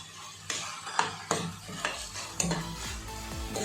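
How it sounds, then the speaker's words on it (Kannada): Onion with ginger garlic paste fries in a pan for a Mangalore-style chicken liver and gizzard dish, a steady sizzle under repeated stirring scrapes and light utensil taps, close and without talk. "ಸ್ವಲ್ಪ ಈರುಳ್ಳಿ ಶುಂಠಿ ಬೆಳ್ಳುಳ್ಳಿ ಹಸಿ ವಾಸನೆ ಹೋಗಿ ಸ್ವಲ್ಪ ಫ್ರೈ ಮಾಡುವ."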